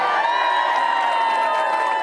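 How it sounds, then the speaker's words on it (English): Election night crowd in Melbourne, a loud sustained roar of cheering and whooping, dense and continuous throughout. "that's the sort of cheer you're going to be hearing across the southeast"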